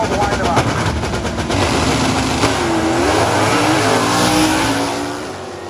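Ford FE-engined stock eliminator drag cars at the NHRA US Nationals rev hard and launch, a loud ragged roar with rising engine pitch under a commentator's voice, fading near the end.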